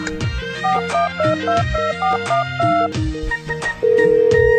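A melodic electronic ringtone plays a repeating tune of bright synthetic notes, loud and close, ending on a long sustained tone.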